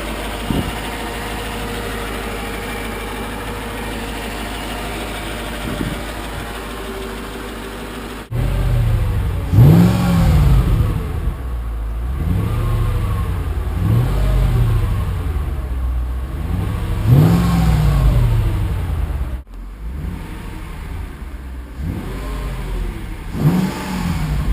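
After sitting in storage for six to eight months, a Mercedes-AMG car engine idles quietly at first, then fires into a series of loud, close revs with rhythmic swells, a brief drop, and more blips.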